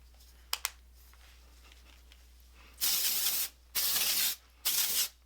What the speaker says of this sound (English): I'm just going to spritz a little bit of this like at the root of my hair